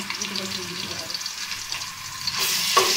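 Garlic paste sizzles steadily in hot oil with a crackling hiss, swelling louder near the end as cumin is added to the pan.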